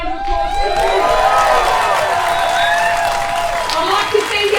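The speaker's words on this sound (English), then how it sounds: "Give them a round of applause too." A crowd at an outdoor union rally in Hobart, Tasmania claps and cheers, with whoops and shouting voices, including children, mixed into sustained applause.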